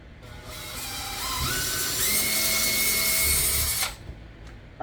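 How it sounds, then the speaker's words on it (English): A power drill bores a 1/8 inch pilot hole through the plastic hull of a Brooklyn PK13 kayak, a steady close whine rising in pitch as the bit speeds up, running for about four seconds before stopping abruptly. "I'm going to do my first drill, my first hole there, and I'm using a 1/8 to do like a pilot hole"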